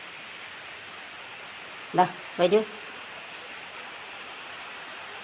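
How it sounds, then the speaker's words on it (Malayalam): Heavy rain pours down as a constant, even hiss that fills the whole stretch, while a voice briefly calls out once partway through. "നല്ല മഴയുണ്ട് കേട്ടോ"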